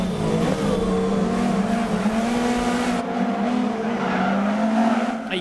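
Lancia S4 rally car sliding sideways through a drift in DiRT Rally 2.0, its engine holding a steady loud drone with tire squeal layered over it, continuous for several seconds.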